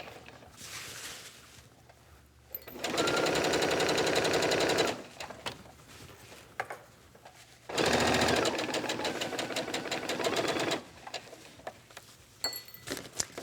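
A sewing machine stitches around the neckline of a child's vest in two steady runs of about two and three seconds, separated by quieter pauses with soft handling clicks.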